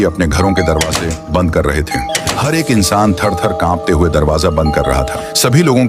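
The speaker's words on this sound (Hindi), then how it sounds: "रोज की तरह चारों ओर डोरबेल की आवाज गूंज रही थी।" Steady electronic doorbell tones ring repeatedly in a village at night, heard beneath continuous Hindi narration in a short horror story.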